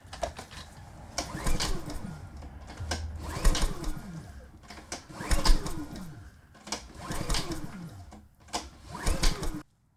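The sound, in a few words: generator engine being cranked over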